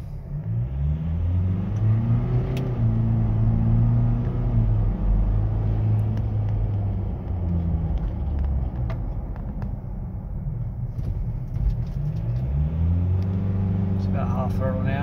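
A Ford 2.0 biturbo car accelerates off the line, its engine note climbing steadily through a gear change, heard from inside the cabin, while someone talks over it.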